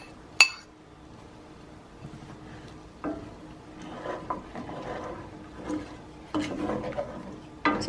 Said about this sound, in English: So just stir, stir, stir, and try to scrape all those yummy bacon bits off of the bottom of the pan